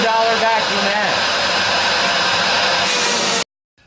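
A $300 all-metal, American-made canister vacuum cleaner runs at full suction, a loud steady whine with broad roaring noise and a high tonal edge that holds for about three and a half seconds, then cuts off abruptly.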